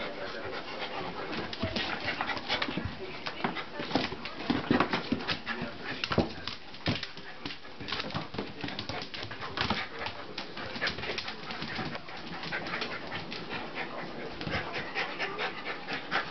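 Two dogs tug with a toy, with close panting, soft whimpers and small growling noises over quiet background hiss, no talk.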